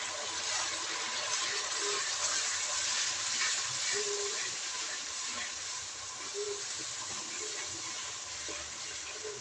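Spice masala sizzles and hisses steadily in hot frying oil for an aloo baingan sabji, a constant bright crackling at moderate level with scattered pops.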